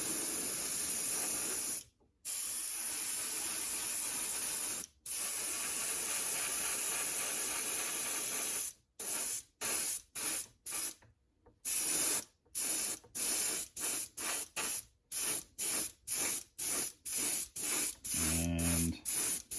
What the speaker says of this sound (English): I don't want to spray it all the way across